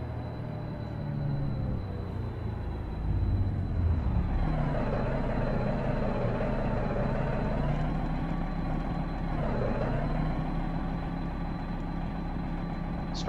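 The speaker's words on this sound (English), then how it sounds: "you can really hear when that turbo lets off." Custom Peterbilt truck engine with turbo in American Truck Simulator, a steady low diesel drone that swells and falls with throttle changes, with a thin high whine running throughout and no talking.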